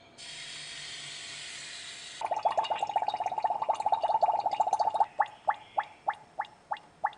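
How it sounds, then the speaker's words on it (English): Carbon dioxide bubbling in a restoppered glass flask after dilute hydrochloric acid is added while preparing potassium permanganate: a soft hiss gives way to rapid gurgling pops, which then slow to distinct, evenly spaced bubbles. "We add fresh batches of acid and keep the bubbling going strongly"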